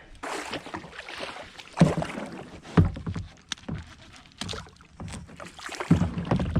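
A kayak paddle dips and pulls through the water of a small Illinois creek, making rhythmic splashing strokes about every second, close to the microphone with light wind noise and no speech.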